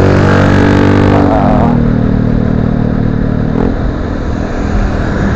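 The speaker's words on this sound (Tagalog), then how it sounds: "Ang motor ko." A motorcycle engine idles loudly up close, its pitch shifting as it revs and settles, with steady rumbling throughout.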